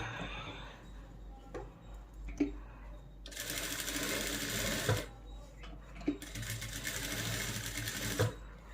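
Sewing machine stitching the lining of an Aari work blouse, running in two sustained bursts of rapid mechanical whirring with quieter pauses and clicks between.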